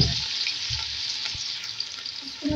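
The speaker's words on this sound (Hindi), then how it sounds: "देखिए प्याज जो है फ्राई हो रही है, इसको मैं और फ्राई करूँगी।" Seven medium onions, chopped and dropped into hot oil for a Pakistani chicken biryani, fry with a steady, dense sizzle that runs unbroken and close, with no voices over it.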